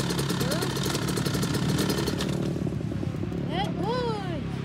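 A dirt bike engine idles steadily close by, a buzzing mechanical drone with a few brief revs near the end, while people talk over it.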